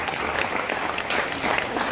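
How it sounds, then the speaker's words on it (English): Audience applause at a Royal Bengal tiger show at Dreamland on the Gold Coast, Queensland: a short, dense, steady burst of many hands clapping together at an even loudness. "let's give them another small round of applause for those few behaviours"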